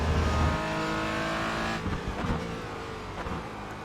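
A Porsche race car in iRacing climbs through its gears out of a corner. The engine note is loud and steady and rises in pitch, then eases slightly with small revving bursts, and no talk is heard.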